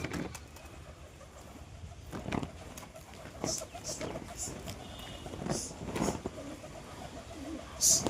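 Pigeons being let out to the ground in 38° heat coo and flutter in scattered bursts at close range, with a voice murmuring in the background.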